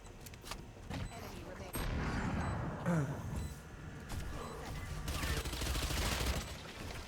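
Gunfire from the tactical shooter Valorant, a few quick shots among busy in-game noise, footsteps and effects, with a voice talking faintly beneath.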